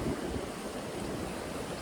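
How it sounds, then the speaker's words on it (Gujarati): Floodwater from the overflowing Shetrunji river rushes past in a steady, dense roar that fills the whole short stretch, with no voices. "આ વખતે શેત્રુંજી આમ જો છલકાઈ ગઈ આખી"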